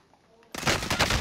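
Burst of automatic gunfire in the Call of Duty: Modern Warfare video game, erupting suddenly after a quiet start and staying loud and close in rapid, dense volleys.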